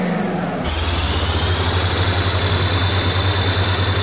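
A combine harvester engine in Farming Simulator 2017 starts up. After a brief change it settles into a steady, deep idle rumble with a constant whine above it, and no one speaks over it.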